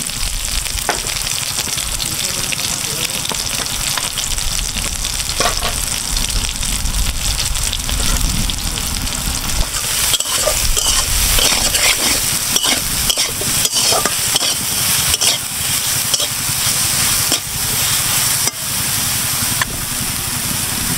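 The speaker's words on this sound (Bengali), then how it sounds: "তেলটা গরম হয়ে গেছে, এখন আমি সয়াবিন বড়িগুলো দিয়ে দেবো।" Soybean chunks fry in hot oil while being stirred, giving a steady, loud sizzle with scraping spoon strokes throughout and no talking.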